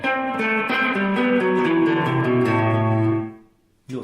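An electric guitar played through a TC Electronic Nova Reverb NR-1 pedal rings out in a sustained, distorted chord passage. It cuts off abruptly with no reverb tail, followed by near-silence and a brief new attack at the end.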